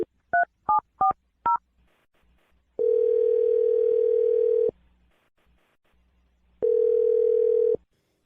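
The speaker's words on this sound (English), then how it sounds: "I'm going to dial Jake's phone number right now" A quick series of four telephone keypad tones, then two long ringback tones separated by a pause, clean and close with no voices.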